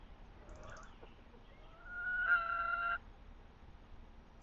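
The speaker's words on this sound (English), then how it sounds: "let's go back and hang out with the chickens a little bit longer" A chicken in the Farming Simulator 25 video game gives a short run of clucks followed by a louder drawn-out crowing call, faint and heard alone without speech.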